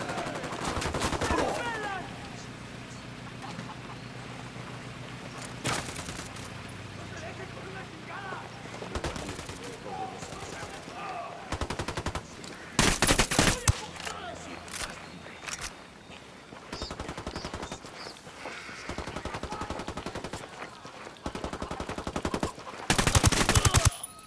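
Automatic and single gunshots ring out in Ghost Recon Wildlands, loud bursts of rapid fire at several points, strongest near the start, the middle and the end, with voices talking between the volleys.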